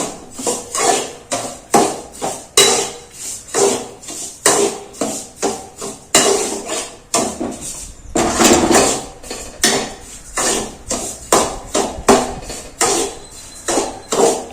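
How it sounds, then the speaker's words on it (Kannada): A metal spoon scrapes and clanks against a pan in a steady, repeated rhythm while bansi rava semolina is dry-roasted over medium heat, loud and close with no talking. "ನೋಡಿ ಇವಾಗ ನೀಟಾಗಿ ಫ್ರೈ ಮಾಡ್ಕೋತಾ ಇದ್ದಾರೆ"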